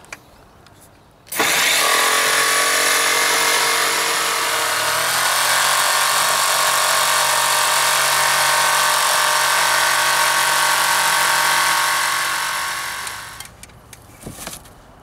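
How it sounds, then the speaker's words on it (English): Jigsaw cutting a hole through a cargo trailer wall: a loud, steady buzzing whine starts abruptly and runs about twelve seconds at a slow even pace, then winds down and stops. "Key to good jigsaw cutting is go slow and let the saw do the work"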